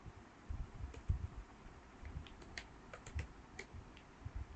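Light, irregular keystrokes on a computer keyboard as a kubectl command is typed, quiet and close, with soft clicks scattered across a few seconds and no talking.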